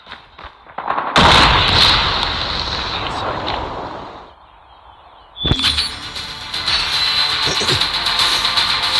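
An EMP grenade detonates in a Garena online shooter, a loud sudden burst that fades over a few seconds, then drops into near silence before a sharp crack and renewed dense gunfire-like noise.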